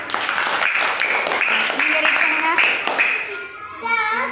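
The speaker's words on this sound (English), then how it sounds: "Clap, clap." A few hand claps in a quick, uneven rhythm mixed with a voice and other chatter nearby.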